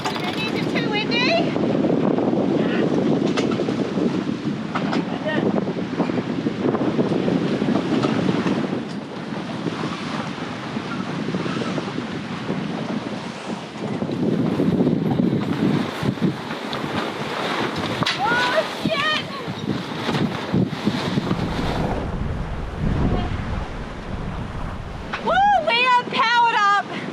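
Strong gusts buffet the microphone in open, breezy conditions near water, rumbling in waves that rise and ease, with voices talking over parts of it.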